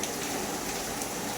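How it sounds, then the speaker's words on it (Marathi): Heavy rain pours down on a road, a dense and constant close hiss with no gaps or other sounds over the short stretch. "खूप मोठा पाऊस होता आहे रोड"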